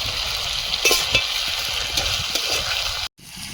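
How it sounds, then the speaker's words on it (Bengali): Potatoes being sautéed in a pan sizzle loudly and steadily up close, with light stirring clatters through the hiss and a sudden brief cut near the end; no one speaks. "আলুটা দিয়ে আর একটু কষিয়ে নিচ্ছি"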